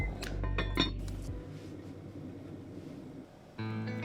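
Liquid chicken bouillon pours into a pot of rice, then a metal lid clinks and rattles into place with a few quick knocks, followed by quiet and a low steady hum, close and clear with no voices.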